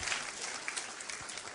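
Brief burst of congregation applause during a church service, a dense patter of clapping heard at moderate distance.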